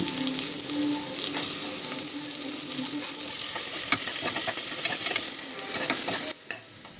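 Onion frying in hot oil with mustard seeds and curry leaves, a steady close sizzle with spoon stirring and scraping in the pan while kodo millet upma is being made, no voices.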